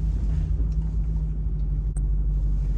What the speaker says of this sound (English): Wow, where did that car appear from?